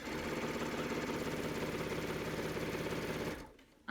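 A sewing machine runs steadily, stitching a pillowcase seam with enclosed seams, its loud, even mechanical whirr continuing for over three seconds before it stops abruptly.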